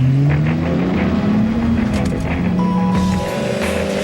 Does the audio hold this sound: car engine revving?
yes